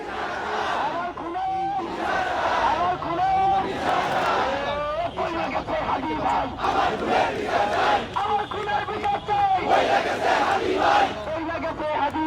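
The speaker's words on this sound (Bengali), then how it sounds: "আবারও উত্তাল পুরো শাহবাগ, এবং আমরা দেখছি সকলে একত্রিত একসাথে ইনসাফের বাংলাদেশ গড়ার জন্য তারা স্লোগান দিয়ে উঠছেন" Large protest crowd at Shahbag, Dhaka, chanting slogans in unison, a loud sustained roar of many voices with rhythmic rises and falls throughout.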